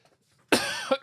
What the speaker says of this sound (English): This is the first cough.